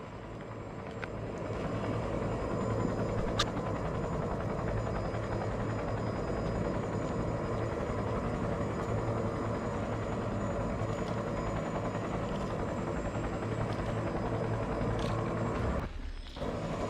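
Aircraft engine roaring steadily during takeoff in Cyberpunk 2077, a loud continuous helicopter-like drone with whining rotor tones that holds for the whole stretch, dipping briefly near the end.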